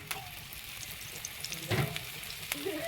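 Peanut and ragi adai fries in oil on a pan, giving a soft, steady sizzle with faint crackles and a few light scraping taps, quiet and close.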